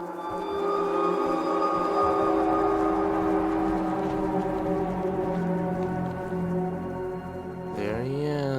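A train rumbles and clatters steadily in the horror video game Choo-Choo Charles, loud and sustained with tonal whistle-like harmonics, then a rising, warbling screech near the end.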